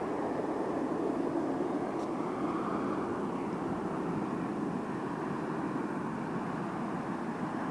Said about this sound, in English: Listen to the Vortex.